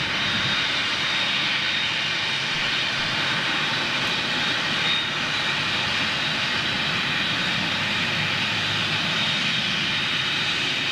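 Rolls-Royce Trent 900 jet engines on an Emirates Airbus A380 at Manchester give a steady, broad roar that holds at high volume for the whole stretch, with no voices over it.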